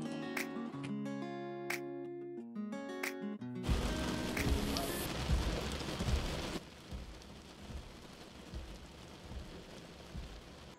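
Steady rain pours down in a cartoon doll story, a broad hiss that starts abruptly after a few seconds of tinkling music, then continues more softly to the end.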